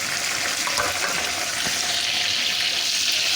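Green chillies fry in hot ghee with a steady, dense sizzle and crackle, close and continuous throughout with no talking.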